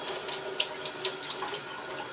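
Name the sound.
water being withdrawn and rinsed out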